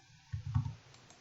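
A short burst of three or four soft, close computer mouse clicks while selecting a 3D modeling menu command, followed by a brief pause and faint ticks.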